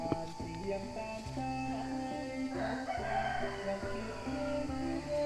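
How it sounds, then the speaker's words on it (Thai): Several junglefowl roosters crow repeatedly at a moderate distance, their drawn-out calls overlapping over a steady outdoor background. "เสียงไก่ป่านะฮะนะ"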